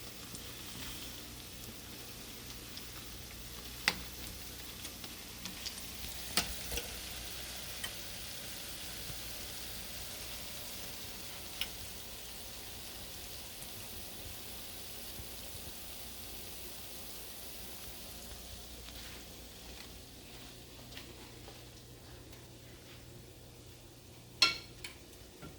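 Vegetable pakora, South African style, frying in hot oil: a soft, steady sizzle with occasional sharp pops and crackles, quiet and continuous with no one talking.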